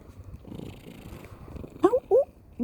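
A cat purrs softly up close, a low continuous rumble, followed by a few short, louder mews near the end.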